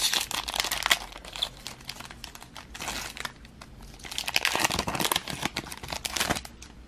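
A Pokémon TCG Sun & Moon Crimson Invasion booster pack torn open by hand, close crinkling foil and tearing in two bursts with brief pauses between.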